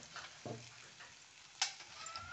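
Spice paste (vatan) frying in a pan as asafoetida and coriander powder go in, giving a soft, steady sizzle with a few sharp clinks of a spoon or container against the pan. No one speaks over it.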